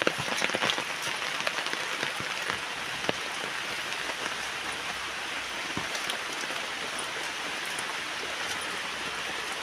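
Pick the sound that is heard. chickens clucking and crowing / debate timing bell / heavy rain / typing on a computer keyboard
heavy rain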